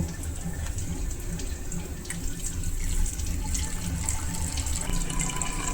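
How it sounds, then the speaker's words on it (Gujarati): Homemade herbal shampoo pouring into a bottle, a continuous close liquid stream gurgling steadily throughout with faint drips and no talk. "હવે એક બોટલમાં ભરી દેશું"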